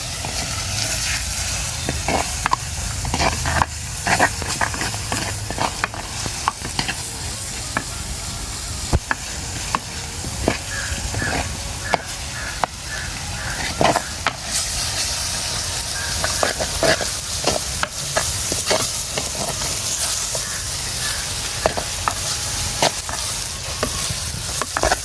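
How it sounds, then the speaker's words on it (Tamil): Onions and small cumin sauté in a pan with a continuous hissing sizzle and irregular sharp clicks and scrapes of stirring, close and steady over a long stretch. "எல்லாம் வதங்கட்டுமா சின்ன சீரகம் போட."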